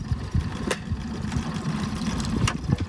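A brand new outboard engine on the dinghy Peanut hums steadily as it tows a sailboat at sea. A continuous mid-pitched drone runs throughout, with a few brief clicks and knocks over it.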